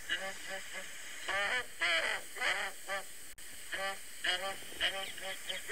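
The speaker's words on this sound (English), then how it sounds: "this is the southern ground hornbill" Recorded call of a southern ground hornbill played back over a speaker, a series of harsh, buzzy hoots in short repeated bursts with pauses between, heard with background hiss.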